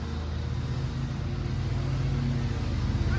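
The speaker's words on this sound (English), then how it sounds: "You hear that noise in the background? Gas-powered lawnmowers." Gas-powered lawnmowers drone steadily in the background, a continuous low engine hum with no clear pauses.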